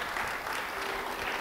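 An audience applauds during a church sermon, a dense steady wash of clapping from a crowd that fills the room at an even loudness throughout.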